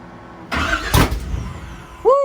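A 496 engine cranks and catches, giving a loud rumbling burst that fades unevenly; a short voice cuts in at the end.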